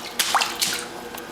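Leaking water drips and splashes into a flooded laundry room where about a quarter inch stands on the floor, a few quick, close wet plinks over a watery background.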